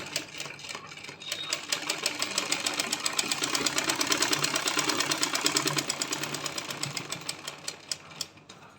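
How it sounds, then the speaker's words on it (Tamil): Sewing machine stitching a two-fold side seam on panties: a fast, even mechanical rattle of needle strokes that builds and runs steadily, close and clear, then slows into separate clicks near the end. "இந்த பக்கமும் நீங்கள் ரெண்டு மடக்கு சைடு சீமாக மடித்து தைக்கணும்"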